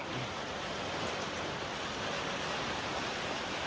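Steady rain falls outdoors, a constant even hiss of broadband noise with no voices.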